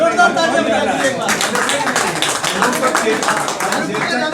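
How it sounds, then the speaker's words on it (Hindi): Audience applause at a farm-products testimonial event: dense, continuous clapping from a crowd running through the whole stretch, fairly loud, with murmuring voices mixed in beneath it. "जोरदार तालियां बजाइए एक बार।"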